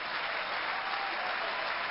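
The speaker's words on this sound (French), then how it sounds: "C'est bien le public qui applaudit, c'est très bien." Tennis crowd at Roland Garros 2006 applauding during a women's match between Tatiana Golovin and Zheng Jie, a steady, dense wash of many hands clapping at a moderate distance, continuous throughout with no voices standing out.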